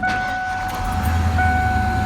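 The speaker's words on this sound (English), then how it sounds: "and the truck starts." A 1990s Ford F-150 pickup fitted with a performance chip and a re-timed distributor cranks and starts, settling into a steady low engine rumble under a constant broadband hiss, with no talking.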